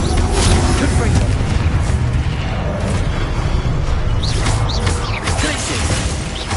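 Confringo blasting spell from Hogwarts Legacy detonating in a dense, continuous booming roar with crashing debris, loud and close throughout, thick low rumble under layered game effects.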